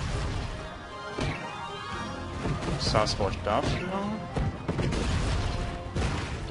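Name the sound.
cannons firing and buildings crashing in video game Cossacks 3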